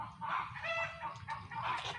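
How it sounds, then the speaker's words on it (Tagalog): Several backyard chickens cluck continuously nearby, a busy overlapping chatter of calls with no talking. "nakikisali yung mga ano din, mga manok sa amin"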